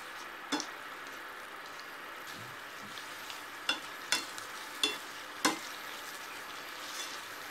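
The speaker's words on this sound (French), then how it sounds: "On va finir la cuisson à la poêle. Comme ça, nos spaghettis vont prendre un bon goût de sauce." Spaghetti finishes cooking in a pan of tomato sauce, giving a steady soft sizzle and bubbling hiss throughout, broken by a few sharp ticks and clicks of a utensil against the pan, with no voices.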